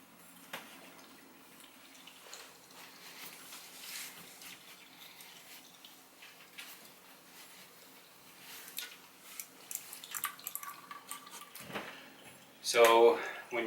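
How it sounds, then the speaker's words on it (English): Engine oil drains from a Honda Africa Twin motorcycle during its break-in oil change, a faint trickle and splatter into a pan that builds toward the end, with someone talking over it. "So when you're draining the oil out,"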